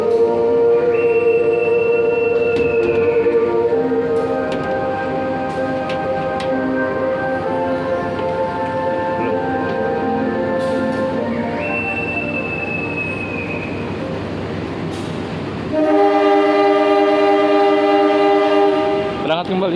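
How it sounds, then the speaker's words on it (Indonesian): The Malabar passenger train pulls away from Kebumen station at night with a loud, sustained rumble and long tonal squeals from wheels or brakes that rise and fall, ending with strong harmonic drones as it gathers speed. "Kereta api Malabar sudah berangkat lagi."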